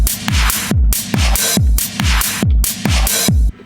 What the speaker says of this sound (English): Beefing that up with a filter and a compressor to make it sound